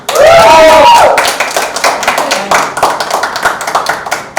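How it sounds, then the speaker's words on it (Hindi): Loud applause breaks out, with many hands clapping rapidly and irregularly, mixed with some voices and cheering. "तो इस बात पे हो जाता ताली बाजी"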